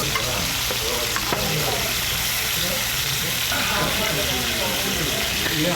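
Pork belly sizzles and fries steadily on a grill at a Korean barbecue restaurant, a loud continuous crackle close by with no talk.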